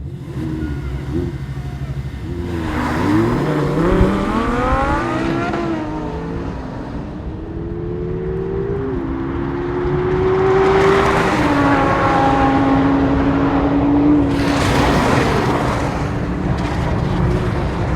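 A rear-engine, four-wheel-drive Lamborghini Huracan supercar launches hard off the line, its engine roaring loud and close as it climbs rapidly through the gears with quick shifts, the revs rising again after each change.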